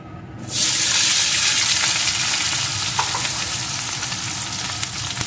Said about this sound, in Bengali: ফোড়নগুলো একটু ভেজে নিয়ে এর ভিতরে দিয়ে দেবো আমি টুকরো করে কেটে রাখা আলুটা।